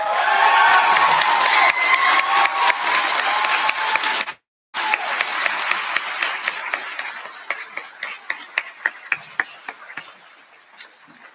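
Crowd applause and cheering at the UMA 2020 graduation ceremony start loud and full, cut out for a moment, then return and gradually thin into scattered individual claps as the noise fades.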